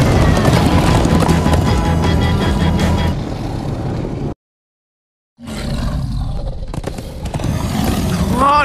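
Horses gallop in Minecraft: Story Mode with loud, fast clip-clopping hooves and roaring motion, cut by a sudden second of silence before the pounding resumes.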